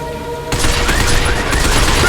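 Rapid gunfire bursts during a robot-shooting fight in the video game Binary Domain, erupting abruptly after a quiet start and staying loud and dense to the end.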